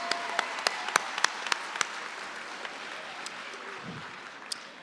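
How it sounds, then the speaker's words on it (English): Scattered applause from an audience at a graduation ceremony, a burst of claps that thins out and fades to a quiet room. "Clap y'all hands for them."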